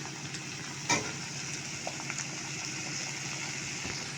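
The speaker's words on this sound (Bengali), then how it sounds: "এইদিকে দেখো সবজিগুলো আমি হালকা একটু ভেজে নেব" Vegetables fry lightly in a pan for chire pulao, a steady, even close sizzle with one sharp utensil knock near the start and a few faint ticks, and no talk.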